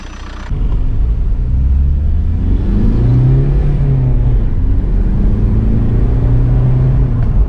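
A VW Golf MK4 Variant with a 1.9 TDI AXR diesel engine and its EGR valve deleted accelerates from inside the car, a loud, deep, steady rumble with rising and falling engine tones, no talking.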